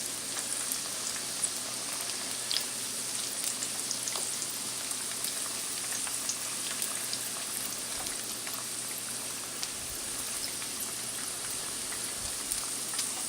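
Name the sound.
egg rolls frying in hot oil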